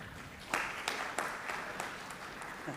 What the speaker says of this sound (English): would like to request all of you to clap for yourself